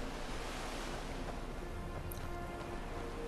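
Steady rushing surf from the Skyrim game world, a constant wash of breaking waves with airy hiss and no talking, even in loudness throughout.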